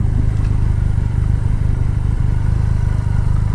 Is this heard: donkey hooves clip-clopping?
no